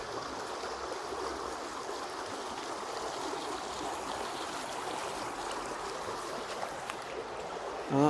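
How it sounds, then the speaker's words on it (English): A flooded, high river rushes under a bridge in a steady, broad roar of churning water, close and continuous throughout, with no talking. "Well, there's still a lot of water under that bridge."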